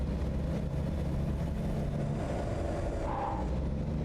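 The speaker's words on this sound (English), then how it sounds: "I start revving this thing" A truck engine revs in the American Truck Simulator video game as a steady low rumble that holds even and continuous throughout, with no talk.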